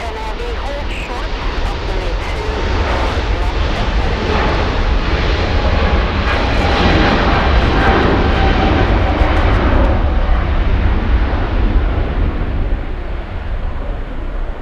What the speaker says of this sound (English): We'll go for the Chinese 777 racing down the runway